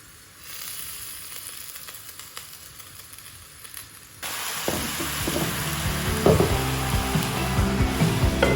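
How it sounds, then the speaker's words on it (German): Quiet sizzling of dumplings frying in a pan to crisp their bottoms, which jumps to a louder, busier frying crackle halfway through, with occasional clinks and scraping of a utensil. "Da bratet man die Dumplings so leicht an, damit die unten knusprig sind."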